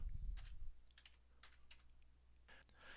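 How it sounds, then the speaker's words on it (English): Typing on a computer keyboard while entering a Linux installer command: a few quick, light key clicks spread across a quiet room, faint and sparse. "So to run the install in GUI mode, we type."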